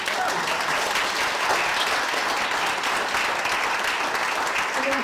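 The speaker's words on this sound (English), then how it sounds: "Round of applause" A dense, loud round of clapping from a local networking audience in Brisbane after a talk, sustained and even for the whole stretch, with faint crowd voices blended underneath.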